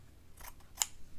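Scissors trimming fabric for a stitched Christmas tree piece, a couple of soft close snips with one sharper cut in the middle, brief and quiet.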